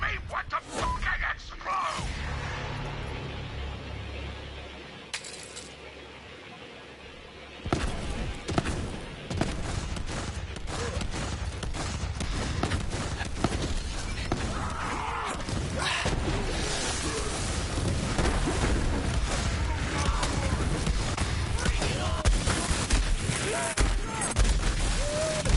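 Soul Render gunfire in Borderlands 3, a dense, continuous stream of shots and impact thuds that starts after a quiet opening and keeps going loud for most of the stretch, with game effects and some talk mixed in.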